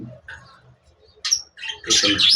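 Caged budgerigars give short scattered chirps and squawks, a few sparse calls first and then a louder burst of overlapping chatter near the end.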